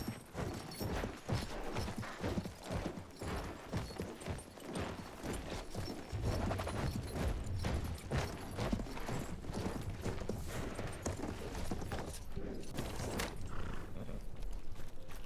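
A horse in the first-world-war shooter game Battlefield 1 clops along in a busy stream of hoofbeats, with gunfire and battle noise mixed in throughout.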